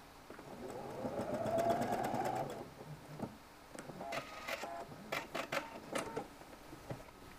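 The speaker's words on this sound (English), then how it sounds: "Sew your buttons onto the right side of the shirt using a machine or by hand." A sewing machine stitches buttons onto a shirt, a short whirring run of rapid needle strokes followed by quieter clicks and brief bursts of stitching, soft and close.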